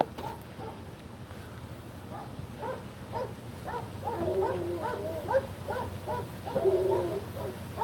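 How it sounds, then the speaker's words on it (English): Many dogs bark at a distance somewhere near a police command center during a gunman incident, overlapping yelps and barks rising and falling over a faint steady background hum, growing somewhat louder toward the end. "Sounds like a lot of dogs."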